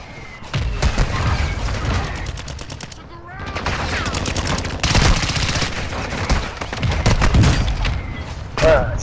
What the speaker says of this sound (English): The mortar striking us.